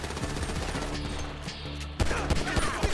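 Rapid bursts of gunfire in Grand Theft Auto V, with repeated loud shots and a dense clatter that grows sharper and heavier midway, no talking over it.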